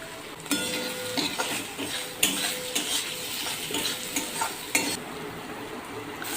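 Turmeric and chili powder frying in a pot for sukto, with a crackling sizzle broken by repeated metal spatula scrapes and clinks against the pan, close and irregular.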